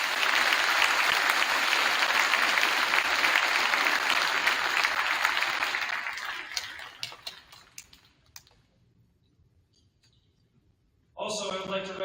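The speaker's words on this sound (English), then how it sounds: "Let's please give these students a round of applause." Audience applause for graduating students at a Cambridge Public Schools 2024 graduation ceremony, a steady dense clapping that fades out over several seconds, followed by a short silence before a voice begins speaking.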